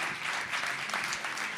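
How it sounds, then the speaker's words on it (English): An audience at a startup pitch event applauds a presenting team, giving a brief burst of dense, continuous clapping from a crowd in a hall, moderately loud and steady. "A big round of applause for Group 7."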